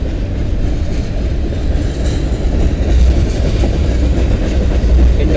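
A train passes at MP 77 on the Dundas Sub in London, Ontario, a heavy, continuous low rumble with faint wheel clatter that swells slightly louder toward the end.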